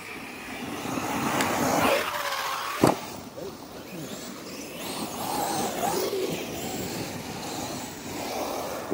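Arrma Mojave and Kraton RC cars driving with wheels slipping, a buzzing electric motor whine that rises and falls, with a sharp knock partway through, under outdoor chatter from people nearby.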